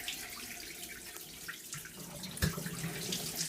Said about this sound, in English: now I turned the drain knob over there, and now it's completely draining it